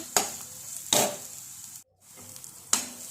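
Ground prawns, minced like keema, stirred and sautéed in oil in a pan, giving a steady close sizzle broken by three sharp scraping stirs and a brief quiet gap.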